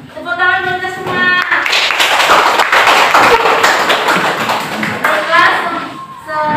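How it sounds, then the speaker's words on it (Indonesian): Children in a classroom clap their hands together in a steady burst of close, continuous clapping, with young voices talking and calling out over it. "tepuk tangan buat kita semua"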